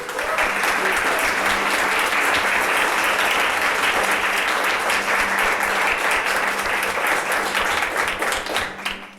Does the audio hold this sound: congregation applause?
yes